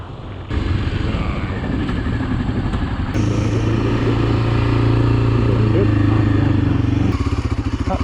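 A motorcycle is ridden off-road, its engine rising from a rough rattling idle to a steady, loud, close drone with clattering bumps, and a voice talks over it.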